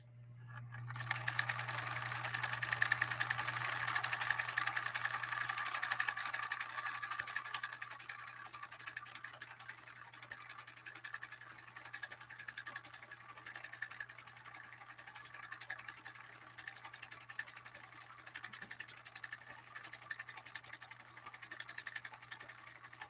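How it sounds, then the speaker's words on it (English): A 1964 Husqvarna Viking 2000 sewing machine stitches a complex pattern into velvet, its motor and needle mechanism whirring in a continuous, fairly quiet mechanical hum with a faint low drone underneath. "1964 Viking 2000 manages a lighter sew off with velvet, laying down some pretty complex stitching"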